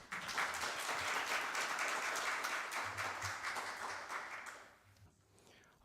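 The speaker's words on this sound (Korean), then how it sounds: "다시 한번 박수로 맞이해 주시기 바랍니다." An audience at an association's founding ceremony and seminar applauds a speaker. The clapping is loud and dense for about four seconds, then thins and fades away toward the end.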